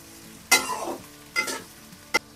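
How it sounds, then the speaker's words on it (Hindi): Sliced onions, cut lengthwise, frying lightly in a pan: three separate bursts of sizzle and stirring, the first loudest and trailing off, then a shorter burst and a brief final crackle, with no talk. "प्याज को हमने हल्का सा फ्राई करना है।"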